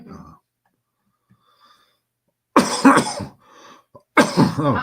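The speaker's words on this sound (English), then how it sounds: "we're both sneezing and coughing." After a near-silent stretch, a person coughs twice in loud, harsh bursts close by, with a faint rasp and breath in between.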